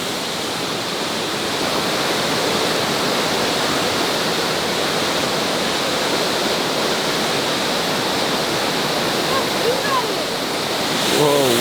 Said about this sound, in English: We found a waterfall.